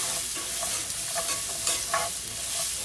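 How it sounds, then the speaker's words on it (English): Onions sauté in oil in a pan with a steady, close sizzle and occasional soft stirring scrapes, without any talk. "What I'm doing, I'm sauteing my onions."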